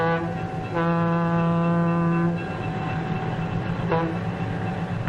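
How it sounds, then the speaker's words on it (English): A passenger train's horn sounds a long, loud tonal blast, then a shorter one follows over the low rumble of the locomotive beginning to move slowly. "The huge locomotive sets the train in motion, slowly at first."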